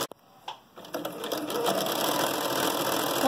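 A sewing machine stitches a fabric mask holder, starting with a few clicks and short stitches before settling into a steady, close rapid whirr.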